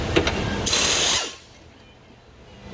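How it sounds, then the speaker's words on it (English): A half-inch impact wrench with a 21 mm socket fires one short, loud burst of about half a second on a 2016 Ford Escape 2.5L non-turbo, close by, followed by quiet. "I think I put the 21s on with my half-inch impact"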